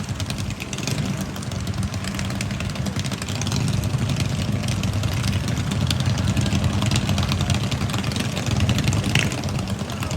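Several racing boat engines drone steadily at a distance during a boat race, a continuous rumbling hum that swells slightly midway and holds without pause.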